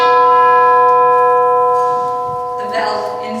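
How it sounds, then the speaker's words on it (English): A single tolling bell, one loud struck tone with long ringing overtones that decay slowly, followed by a short muffled sound. "The bell invites me."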